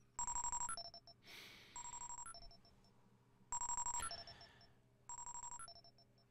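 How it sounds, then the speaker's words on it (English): A phone ringtone in the video game Pikmin 3 Deluxe, a bright electronic trilling melody repeating in four short bursts with brief gaps, clear and fairly quiet, no talking. "I don't know if I really want to receive this phone call"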